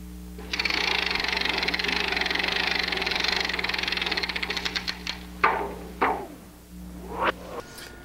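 Motorcycle engine sound effect spliced into the tail of a foley cue, a rapid mechanical chatter like a sewing machine that slows into separate putts, followed by rising and falling whooshes as the bike passes by.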